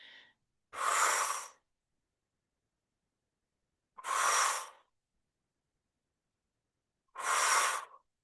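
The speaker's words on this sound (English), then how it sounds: "6 breaths in through the nose, out through the mouth" Three slow, deliberate breath sounds spaced a few seconds apart, each an audible airy exhale following an inhale through the nose, close and clear in an otherwise silent room during a seated hip-stretching practice.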